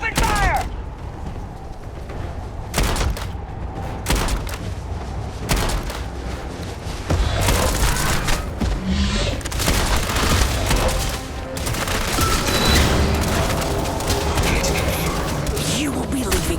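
Heavy gunfire in the Starfield video game: dense, continuous volleys of loud shots and booms with rapid bursts, close and overlapping, with voices shouting among them.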